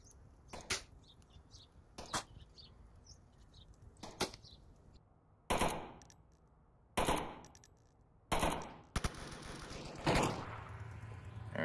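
Automatic gunfire from the VR shooter Onward during a competitive team match: a few sharp single shots, then several loud, close bursts of rapid fire with quieter game ambience between them.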